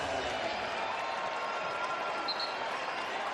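Crowd noise during a Cornell vs USC college basketball game, a steady, moderately loud swell of cheering and clapping with a commentator's voice running over it.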